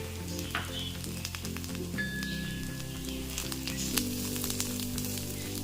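Ginger garlic paste frying in a pan for a crispy corn snack gives a steady, close sizzle and crackle that runs throughout with no talking.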